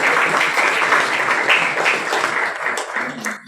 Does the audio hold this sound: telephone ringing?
no